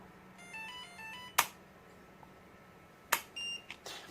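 A short series of bright electronic beeps plays faintly as an RFID lock reads a card, followed by a couple of sharp clicks and another brief beep pattern at close range.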